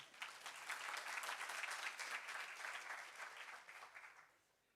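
Audience applause for a speaker at a deep learning symposium in Barcelona, a dense, even patter of many hands from a large room, sustained then tapering off at the end.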